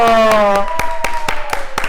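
A studio audience claps for arriving guests in steady, rhythmic unison beats, loud and close; a sustained musical tone rings over the first few claps before they continue alone.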